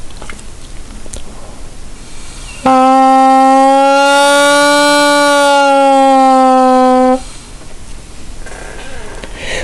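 A double reed instrument sounds one sustained, steady tone started with air articulation, swelling slightly louder and rising a touch in pitch midway, alone against a low background hiss.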